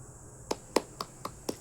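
A church congregation claps in sharp, evenly spaced beats, about six distinct claps in quick rhythm over a quiet background.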